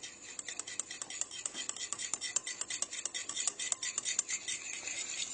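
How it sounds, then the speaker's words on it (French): Rapid clicking and scraping of a spoon stirring yogurt in a bowl, a steady run of close, crisp ticks with no talking. "Et là, je mélange le yaourt"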